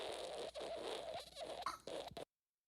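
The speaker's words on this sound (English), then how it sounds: "So I think this is a fart" A raspy, sputtering fart sound effect runs for about two seconds, loud and continuous, then cuts off abruptly to silence.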